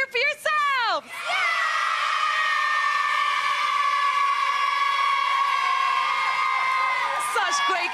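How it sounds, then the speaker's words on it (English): A team of schoolchildren on a 2002 children's TV game show cheers loudly in one sustained shrill roar, with a few shouted whoops at the start and end. "So come on, Blues, one big cheer for yourself!"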